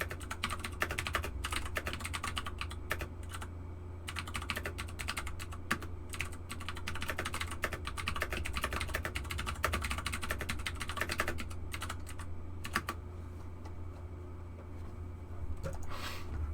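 Rapid, continuous clicking of keys on a computer keyboard, close and steady over a low background hum, with a brief lull near the end.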